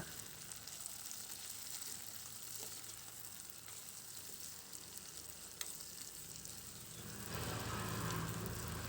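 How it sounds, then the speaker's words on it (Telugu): Cluster beans curry cooking in oil under a lid, a steady close sizzle and bubbling that swells louder near the end, with no talk. "ఇవి ఇలా ఆయిల్లో మగ్గడం వల్ల కర్రీ చాలా రుచిగా ఉంటుందండి"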